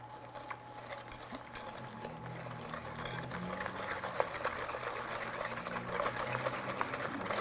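Liquid is whisked into chocolate cake batter in a mixing bowl: a quiet, continuous run of quick clicking and swishing strokes, steady throughout with no voice over it.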